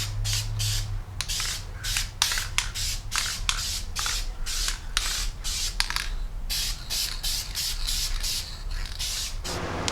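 Flame red spray paint going onto Jeep Cherokee XJ lower door armor, a series of short close hissing spray bursts in quick rhythmic succession with brief gaps, no voices.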